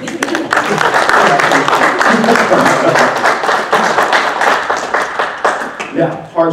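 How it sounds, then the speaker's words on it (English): An audience claps steadily through a talk on climate action and climate positive design, a dense, fairly loud patter of many hands that tapers near the end as a voice resumes. "You can clap."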